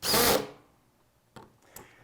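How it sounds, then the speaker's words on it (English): A power drill with its clutch set drives screws during a wheel assembly, giving one loud close whir that cuts off quickly, then two short quieter bursts as the clutch catches. "So still have the clutch setting on my drill, and go ahead and drive these in until they hit that clutch."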